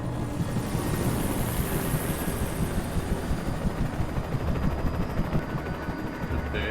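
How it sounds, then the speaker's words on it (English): In the video game Alan Wake Remastered, a helicopter is beset by attacking birds, heard as a steady, dense rotor and engine roar that stays loud and unbroken throughout, with no speech. "The birds are attacking the helicopter."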